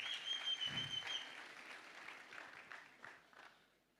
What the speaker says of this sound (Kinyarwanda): Reka nawe tumukomera amashyi.